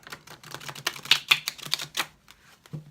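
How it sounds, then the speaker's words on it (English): A deck of cards is riffle shuffled close by, a quick ripple of sharp clicking flutters rising and then trailing off. "this deck rifle shuffles really easily"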